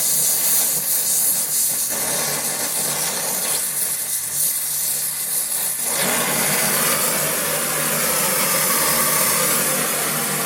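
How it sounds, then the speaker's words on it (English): Welding going back over a seam in a shop to fill spotty bits, a loud continuous crackling hiss that holds steady throughout and brightens slightly partway through. "I'm going to go back over the weld there to fill in a few spotty bits."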